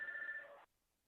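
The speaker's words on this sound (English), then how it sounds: "will somebody put their phone on mute?" A phone rings during a senator's question-and-answer session. It is a single short electronic ring, close and clear, lasting about half a second before it cuts off abruptly, with no talk over it.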